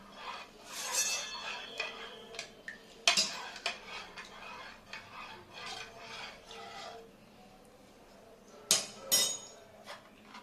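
A spoon clinks and scrapes against a glass while stirring a tender coconut and chia seed drink, with irregular metallic taps and rubbing, close and fairly quiet, louder knocks near the end.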